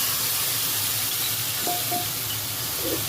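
Spiced cabbage curry sizzles and fries steadily in a pan, with a continuous close hiss and occasional faint stirring sounds, no talking.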